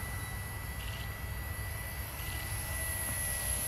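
A Walkera V120D05 flybarless RC helicopter hovering outdoors, with a steady, faint, high-pitched motor whine and rotor hum that holds constant throughout.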